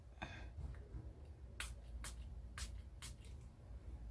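Makeup setting spray misted from a pump bottle in four short, sharp hissing bursts spaced about half a second apart, close by and with no talking.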